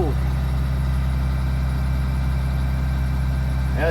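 A 2009 Blue Bird Vision school bus diesel engine idles steadily at night after a cold start, a loud continuous low rumble with a constant drone throughout.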